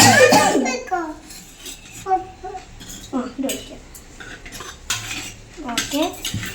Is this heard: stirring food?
yes